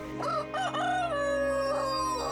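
A rooster crows close and clear, one long cock-a-doodle-doo call rising then stretching into a sustained tone, heard alone against a quiet low background hum.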